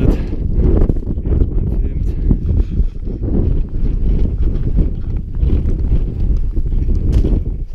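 Strong wind buffets across an alpine mountain ridge on the Zugspitze route from Ehrwald, a loud continuous roaring rumble battering the microphone throughout.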